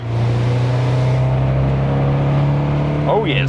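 An Alfa Romeo 75 with its 2.0 Twin Spark engine runs with a loud, steady drone, heard from inside the car, as someone speaks briefly near the end.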